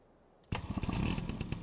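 Small scooter-like vehicle with a cab in Farming Simulator 25, its buzzing two-stroke-style engine starting abruptly and revving up loud and close with rapid pulsing.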